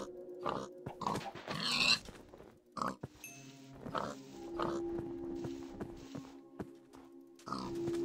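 Pig oinking and grunting in the Minecraft video game, several short game-sound calls in a row, mixed with footstep clicks and other game effects, fairly close and loud, with no talking.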